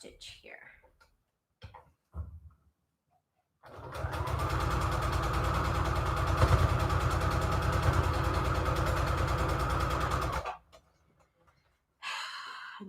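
A home sewing machine runs a straight stitch across quilt patchwork fabric in one steady, loud whirring burst of about seven seconds, with brief talk and handling sounds before and after it.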